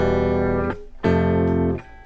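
Acoustic guitar plays two measures of a song: two sustained strummed chords ringing clearly, each cut off briefly, with no talking.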